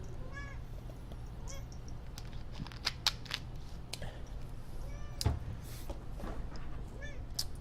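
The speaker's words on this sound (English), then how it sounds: "Cat." A cat meows several times indoors, short faint mewing calls spread across the moment, over quiet room noise with a few clicks and taps.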